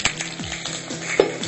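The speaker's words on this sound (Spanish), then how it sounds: "Le vamos a poner un poco de aceite. Y ahí vamos a dorar la cebolla, el ajo," Onion, garlic and chiles sizzle in hot oil in a frying pan, with a soft crackling hiss, a few clinks of a utensil stirring against the pan, and no talking.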